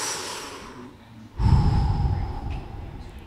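A person's voice imitates heavy, rapid breathing during a rest period after exertion, a forceful audible exhale and breathy rush close to the microphone following a quieter inhale.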